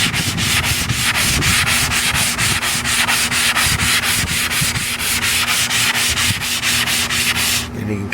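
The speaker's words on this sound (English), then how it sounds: "That's what you're kind of sanding off." Hand sanding on a French Provincial dresser makes a close, loud rasping rub. Quick back-and-forth strokes repeat in a steady rhythm for several seconds, then stop abruptly, with no voices.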